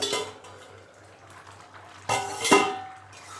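A metal pot lid lifts off a pot of simmering arhar dal with a clatter and clink of cookware, followed by a brief scrape, close by and without speech.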